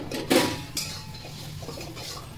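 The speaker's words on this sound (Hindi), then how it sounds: "तो चलिए मसालों को अच्छे से भून लेते हैं।" Garam masala spices are stirred and roasted in a pan. A close metal spatula clanks and scrapes against it, with a loud knock early on, then softer scraping under faint background noise.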